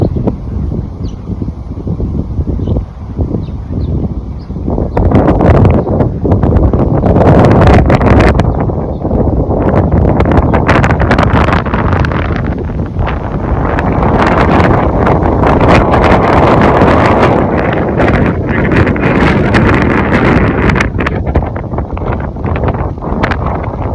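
Wind blowing outdoors at a muddy spot, a loud rough rumbling roar from gusts buffeting the microphone, continuous and building stronger after the first few seconds, with no talking.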